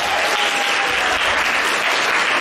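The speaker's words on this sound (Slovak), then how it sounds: "Potlesk." An audience at a lecture gives a short burst of dense, steady clapping that fills the room from start to finish.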